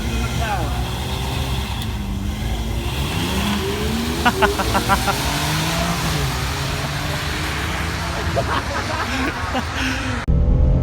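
An old gold Nissan Z launches on a drag strip, its engine revving hard and climbing as the tires spin, with loud excited voices shouting over the roar and a sharp burst at the end.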